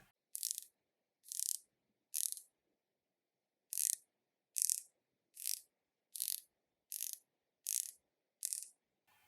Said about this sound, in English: The clicks are solid and consistent, and the bezel action sounds so good.